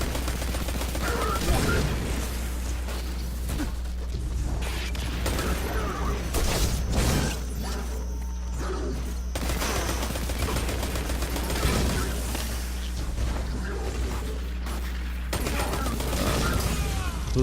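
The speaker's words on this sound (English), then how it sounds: "Who the fuck is shooting?" Gunfire in the Destiny 2 video game: repeated shots and mechanical clatter under a steady low hum, with some talk over the top.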